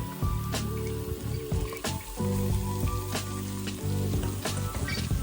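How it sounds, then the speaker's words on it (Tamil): Boiled potato and fish frying together in a pan for Sri Lankan fish cutlets, a loud continuous sizzle with clinks and scrapes of stirring throughout, no talking. "இந்த டைமில் அவிச்சு வச்சிருக்கிற கிழங்க போடுறேன் இதோட மீண்டினையும் சேர்க்கிறேன்"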